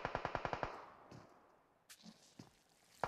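In the video game PUBG Mobile, a quick burst of about seven rapid gunshots rings out, then fades into quiet broken by a few faint distant cracks and shuffles.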